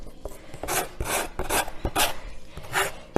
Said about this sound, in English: And I'm just going to take a sanding block.